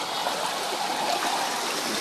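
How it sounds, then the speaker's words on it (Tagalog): Water spurts like a fountain in a continuous rushing, splashing hiss, steady and fairly close, with no voices. "Sumirit. Kala mo yung fountain na ano."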